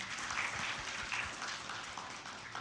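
An audience at a climate change seminar gives a speaker a sustained round of applause, a dense, fairly soft and even patter of many hands clapping with no talking over it.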